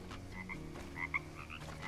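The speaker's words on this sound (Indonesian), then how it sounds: "Ada kodok juga." Frogs croak in the jungle of the survival game Green Hell, a few short chirping croaks repeating over a low ambient hum, moderately close and alone.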